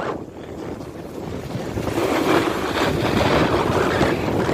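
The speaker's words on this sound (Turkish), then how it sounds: "Birazcık rüzgar var." Wind blows across a ski slope at Erciyes Ski Center, a broad rushing roar of gusts buffeting the microphone that swells louder after the first couple of seconds and stays strong, with no voices.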